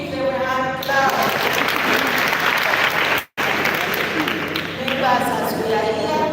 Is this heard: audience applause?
yes